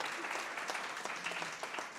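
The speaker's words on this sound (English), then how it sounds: "they need a big applause again" A symposium audience applauds: steady, dense clapping from many hands, moderately loud and continuous throughout, with no speech.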